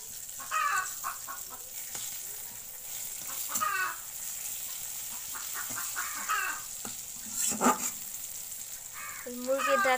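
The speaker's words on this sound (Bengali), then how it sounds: "ডাক শুনতে পাচ্ছেন মুরগি ডিম পারতে গেছে দুই মুরগি একসাথে ডিম পারে" Hens clucking and cackling repeatedly at laying time, in loud bursts over an ongoing background sizzle of frying in a kitchen.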